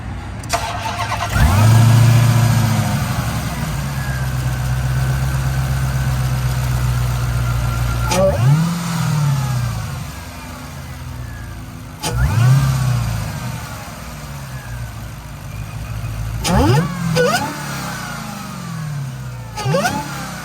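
A 2022 Dodge Challenger Hellcat Redeye Widebody engine starts with a roar, then revs repeatedly in sharp bursts that rise and fall, loud and close, between stretches of rumbling idle.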